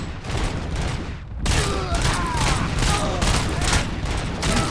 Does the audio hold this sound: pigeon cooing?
no